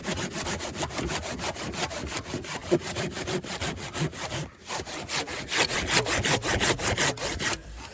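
A hand saw cuts in steady, rapid back-and-forth strokes, loud and close, continuing with a brief pause near the middle and no one talking.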